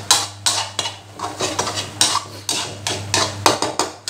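A utensil stirs basil stir-fry sauce simmering in a pan, scraping and clinking against the metal in a steady rhythm of about two strokes per second. The strokes are close and clear, with no talking.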